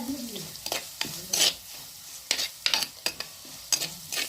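Fish curry base with turmeric and salt stirred in a pan, a series of sharp scraping strokes spaced irregularly over a light sizzle.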